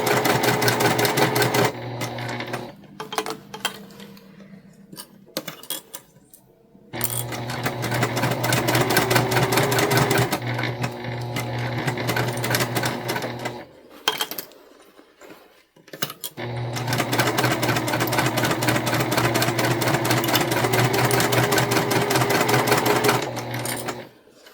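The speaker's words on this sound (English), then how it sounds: "we're just going to stitch around the top again at that 1/4 inch seam allowance" A domestic sewing machine runs in long steady bursts of rapid stitching while sewing a quilted fabric basket, stopping briefly between runs, close and loud with no talking.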